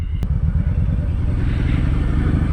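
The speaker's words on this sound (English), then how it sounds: "I keep downshifting because my foot goes directly over the heel shifter" A 2023 Kawasaki Vulcan Vaquero motorcycle rumbles loud and close while being ridden, with a steady low engine drone and some wind noise, and no talking.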